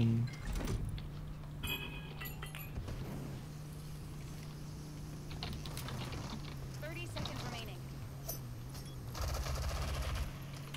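Gunfire in the Rogue Company shooter video game arrives as scattered sharp bursts and single cracks at moderate distance, spread over a low steady hum with faint game noises in between.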